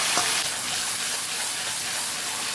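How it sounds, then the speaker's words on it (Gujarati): Raw spice masala sautéed in a pan with a spoonful of water for a Kathiyawadi boiled cluster bean curry makes a close, steady frying hiss that swells briefly near the start and carries on evenly without any speech. "મસાલાને સરસ આપણે સાતળી લેવાનું છે."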